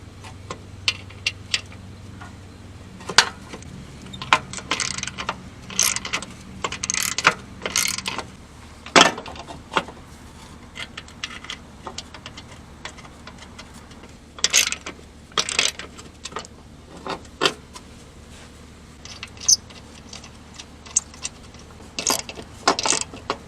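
Socket wrench ratcheting on the spindle bolts under a Poulan mower deck, a series of close, sharp metallic clicking bursts in irregular runs with brief pauses, no talking.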